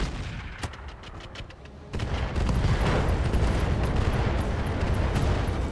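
RogueTech mech weapons fire at a Victor with a heavy, sustained roar, a few sharp cracks at first giving way to a loud dense barrage of blasts and rumbling impacts.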